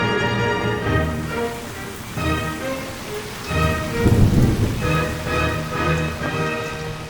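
Steady rain falls in a garden in Tennessee on an evening, a broad continuous patter with occasional low rumbles swelling around the middle, mixed under soft tonal music.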